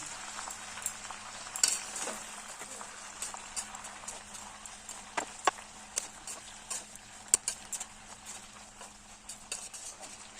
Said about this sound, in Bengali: এটাও খুন্তির সাহায্যে ভালোভাবে সবজির সঙ্গে মিশিয়ে দিচ্ছি